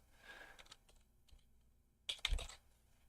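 Typing on a computer keyboard, a string of soft key clicks running through most of the stretch before a louder, denser burst of keystrokes near the end, close and with no voices.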